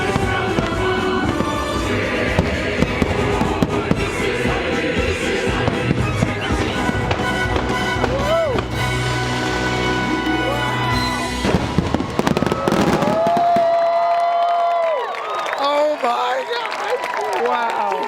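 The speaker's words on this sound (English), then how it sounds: "Absolutely loved that fireworks show." A fireworks show at a Disney Halloween party booms and crackles loudly under music, with crowd noise and cheering mixed in, ending in rising whistles and fading bursts.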